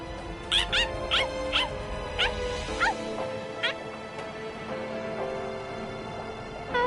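A dog in the Bleach Rebirth of Souls video game yips and whimpers in a quick series of high, squeaky barks over a steady musical hum, then falls quiet as the hum continues.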